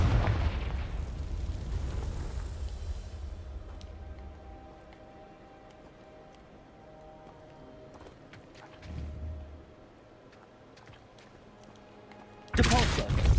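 A Confringo blasting spell detonating in Hogwarts Legacy, a rumbling blast that decays over several seconds into quiet ambience, followed by a smaller thump and a sudden loud burst at the end.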